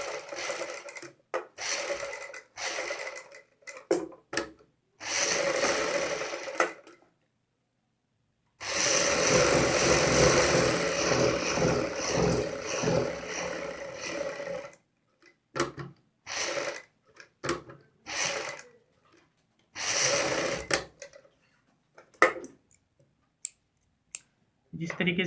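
Sewing machine stitching a kameez collar band along the buckram edge, leaving a one-stitch gap; bursts of running stitches alternate with pauses, one long steady run in the middle, with scattered clicks and handling noises between.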